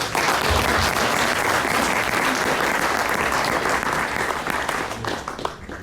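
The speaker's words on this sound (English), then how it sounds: "Give a round of applause for it." A large crowd at a Dallas community meeting applauds an elementary school steadily, a dense wash of clapping that holds strong throughout and eases slightly near the end.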